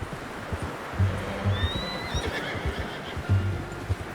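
A horse whinnies and neighs repeatedly in Red Dead Redemption 2, the calls rising over a steady outdoor ambience with soft hoof shuffles and movement throughout.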